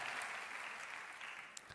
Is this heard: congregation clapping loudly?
yes